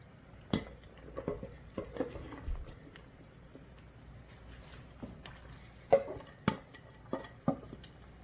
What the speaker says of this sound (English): Stir. Make sure that all the onions is covered with the oil.